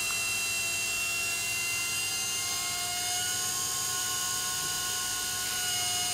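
An enamel coil wire insulation stripping machine running with speed control, a steady high-pitched motor whine with tonal harmonics and a constant mechanical hum, continuous and fairly loud with no talking.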